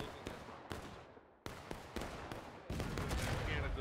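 Massed musket volleys in the War of Rights Civil War battle, sharp cracks of individual shots and ragged fusillades echoing near and far, building to a dense continuous roar of gunfire near the end.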